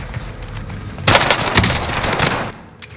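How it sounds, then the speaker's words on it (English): Gunfire in the Call of Duty video game, loud rapid automatic bursts with a dense crackling volley in the middle of the clip that fades toward the end. "They're shooting at me."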